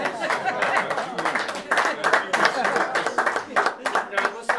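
Audience clapping at a 1981 football anniversary dinner: a steady, dense patter of many hands across the whole stretch, mixed with chatter and a little laughter in the room.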